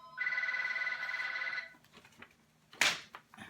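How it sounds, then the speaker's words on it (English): A telephone rings in one sustained electronic burst lasting over a second, followed by quieter clicks and a sharp clatter, with no talking. "Now it's the phone."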